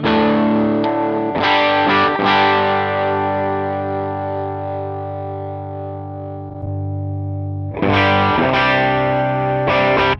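Electric guitar through an amp on its Brit setting, with a driven, overdriven tone, rings out in sustained chords that decay slowly, then strikes again near the end, loud and close with no talking.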